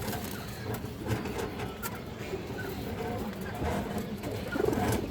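A female Kajla red-necked pigeon coos softly amid a busy, noisy background of rustling and mechanical clatter, with low murmurs running throughout.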